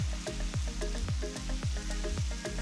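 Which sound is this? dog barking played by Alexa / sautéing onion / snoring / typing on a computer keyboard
sautéing onion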